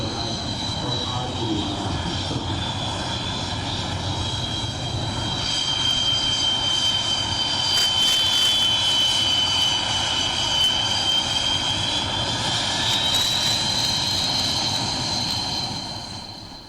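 An Indian Air Force MiG-21 fighter jet at its retirement event gives a loud, continuous engine roar with a high whine that swells and eases over about sixteen seconds.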